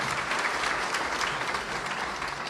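Applause from an audience at a dining hall commissioning ceremony in Siaya County, a steady dense clapping that holds at full strength throughout.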